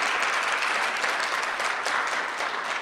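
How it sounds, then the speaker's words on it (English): An audience applauds someone speaker at a live STEM event, a dense, steady wash of clapping that holds evenly at moderate loudness from start to finish with no talk. "Can we give her another round of applause?"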